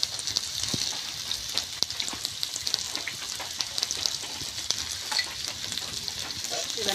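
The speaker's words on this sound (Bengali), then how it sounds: "এবার নাড়াচাড়া দিতে হবে।" Fish stirred in a hot pan with turmeric and salt, a steady sizzle and frying hiss running throughout with scattered crackles and scraping stir strokes close by.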